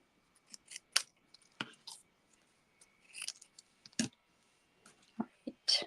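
Scissors cut paper pieces for a Christmas triangle fold box in a series of close, crisp snips and clicks spread unevenly across the moment, with quiet gaps in between.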